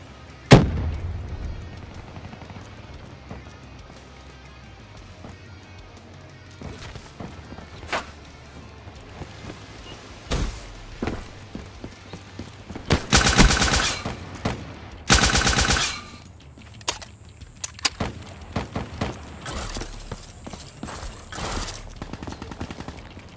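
An armored turret fires machine gun bursts in Call of Duty Black Ops III: scattered single shots first, then two long, loud, dense bursts, followed by intermittent shots and impacts.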